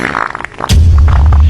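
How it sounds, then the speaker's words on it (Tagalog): After a brief murmur of background sound, a loud, low, buzzing fart bursts out close by and holds steady for almost a second. "Sana umutot yung nanay ko."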